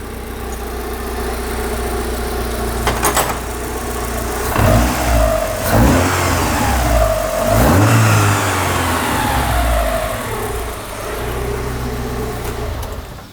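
A Lotus Elise S1 engine runs near the microphone, settling at idle between several sharp revs that rise and fall, with a steady mechanical rumble underneath throughout.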